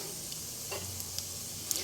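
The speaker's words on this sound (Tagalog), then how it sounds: "Prito ko naman ngayon ay ang sulit octopus bola-bola." Quiet sizzling of octopus balls frying in oil, a soft steady crackle with a few faint clicks, no talking.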